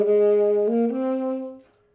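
A solo saxophone plays a short phrase: one sustained, held note and then a quick triplet figure, ending on a note that fades out within two seconds, close and clear.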